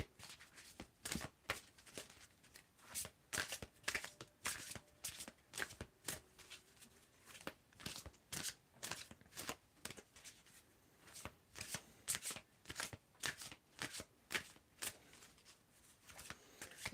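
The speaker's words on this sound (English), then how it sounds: "When do I need to stop shuffling?" Tarot oracle deck cards being shuffled by hand, a steady series of crisp riffling bursts repeating in quick rhythm, close and quiet, with no talking.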